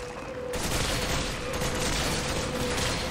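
Resident Evil 5 gunfire erupts as a sustained, dense volley of shots starting abruptly after a brief quiet, loud and steady to the end.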